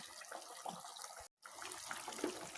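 A pot of tamarind fish curry boils on the stove, giving a faint, steady bubbling and simmering with a short break in the middle and no voices.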